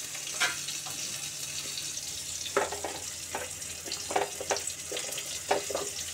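Two or three green chillies tempered in hot oil, giving a steady close sizzle with scattered sharp crackles and spatters, no voices.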